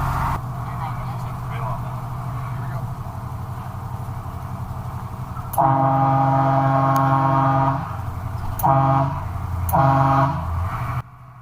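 A ship's horn answers a vehicle's salute near a bridge between Munising and Duluth: long deep harmonic blasts, one sustained about two seconds then two shorter ones, loud over steady engine rumble.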